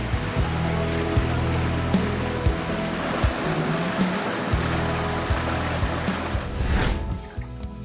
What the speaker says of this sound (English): Here the driving force is performed by water from those same rivers.